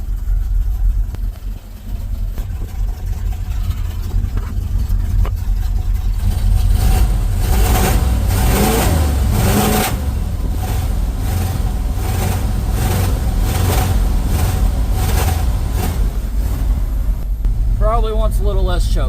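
A Ford F350 truck engine with a repaired fuel problem runs loud and near, rising into a sustained rev that holds, then settles back, with someone talking near the end.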